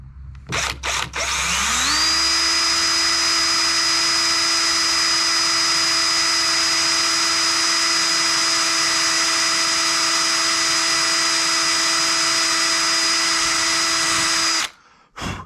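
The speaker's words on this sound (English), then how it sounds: "So now I'm gonna drill that hole." A power drill spins up and runs at a steady high-pitched whine for about twelve seconds, drilling a drain plug hole in a kayak hull, then stops abruptly; no talking.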